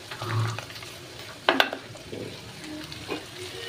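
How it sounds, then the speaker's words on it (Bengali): Ginger-garlic, cumin and chilli spice paste hits a hot pan with a sharp, close sizzle and a few clinks of utensils, settling into a softer frying hiss. "এই মশলাটা আমি দিয়ে দেবো।"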